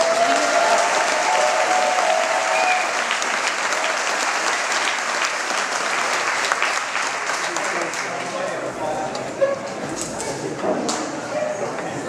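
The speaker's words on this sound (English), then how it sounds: "Give them a round of applause." Sustained applause from a crowd at a snowmobile racing awards banquet, steady and fairly loud throughout, with a few scattered louder claps and faint voices mixed in.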